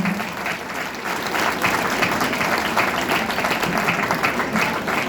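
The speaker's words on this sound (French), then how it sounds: "vous pouvez les applaudir très très chaleureusement" Warm, sustained applause from a theatre audience at the Théâtre DuPont inauguration in Nantes, many people clapping in a full, even roar that swells slightly and holds steady.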